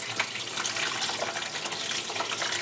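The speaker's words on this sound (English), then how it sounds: "Now all I do is pour in the clean water" Clean water pours steadily by hand into a goldfish tank, a close, continuous splashing rush with no pauses.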